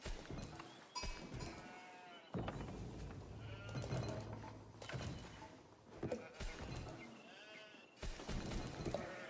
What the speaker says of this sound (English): a pretty substantial sheep haul for Core.